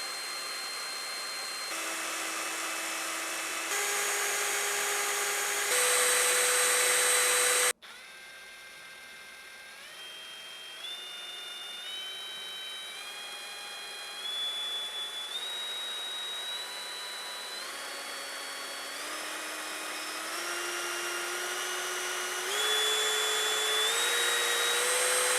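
A Parkside PDSSAP 20 Li C3 cordless impact driver runs unloaded with a steady electric whine that steps up through several speed levels, cuts off abruptly, then restarts and climbs again in stages.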